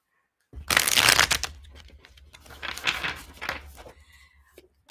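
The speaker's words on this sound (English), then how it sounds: "Let's get a nice shuffle going." Tarot cards being shuffled close up, a dense riffling burst followed by a few softer rounds of card flicks and taps, heard alone without any talking.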